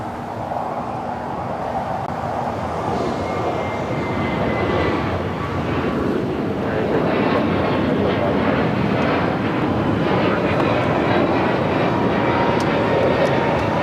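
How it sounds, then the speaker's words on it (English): All Nippon Airways Boeing Dreamliner jet taking off on runway 24 left at LAX, a continuous loud engine roar that builds and holds steady, heard from a distance with faint whining tones and no talk. "We have an All Nippon Airways Dreamliner rolling on 24 left."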